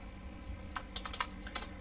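Quick keystrokes on a computer keyboard, a short burst of about eight light clicks spaced irregularly over a low background hum, close and fairly quiet.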